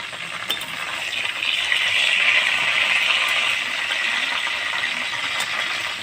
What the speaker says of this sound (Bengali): এটা ভেজে নিচ্ছি, এক পিঠ ভাজা হয়ে গেছে আর এক পিঠ উল্টে করে নিচ্ছি